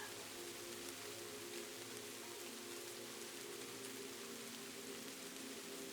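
Steady rain falls through a night in Kyoto, a soft, even hiss of drops spread evenly across the whole stretch, quiet and constant with no voices.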